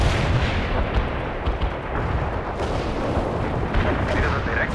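Artillery strike in the video game World in Conflict: a sustained, dense roar of booming impacts and rumbling fire that stays loud and steady throughout, with no clear pauses.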